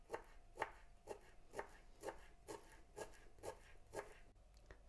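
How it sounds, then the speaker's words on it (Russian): Dill being finely chopped with a knife on a cutting board: about nine quick, even strokes in a steady rhythm, close and crisp, with no talking. "Мелко накрошу зелень укропа."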